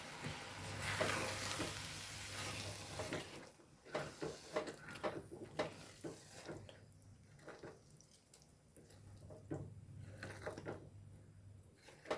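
Beaten thick curd being stirred into a pan for Kerala pachadi: soft wet swishing and scraping in irregular strokes, fairly quiet and close, with faint sizzle and no talk.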